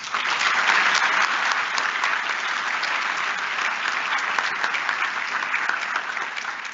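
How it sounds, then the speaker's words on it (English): Another round of applause breaks out at a U.S. Army retirement ceremony for CW5 Linc McCoy, a loud, dense, continuous clapping from a large audience that holds for the full stretch. "Please give them one more round of applause."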